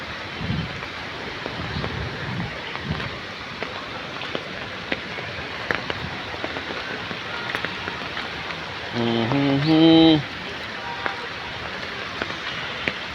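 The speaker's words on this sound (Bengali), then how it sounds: "প্রচুর পানি আসছে, বৃষ্টির পানি।" Rainwater running off a road pours into a lake in a continuous, moderate, rushing wash, with a brief tonal honk near the end and a voice talking over the flow.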